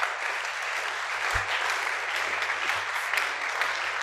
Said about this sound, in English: Please let's give our outgoing president a round of applause